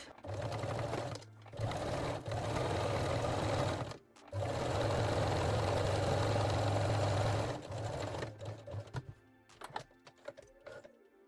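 Sewing machine stitching a seam on lace panties, humming in long close bursts broken by brief stops, then a few short stitches and clicks at the end.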